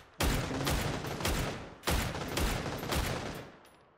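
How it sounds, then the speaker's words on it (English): Rapid bursts of rifle fire from a DMR in the video game PUBG, several sharp loud volleys crackling in quick succession across the clip, with two main clusters of shots before trailing off. "Someone on my right as well, trying to shoot me with a DMR."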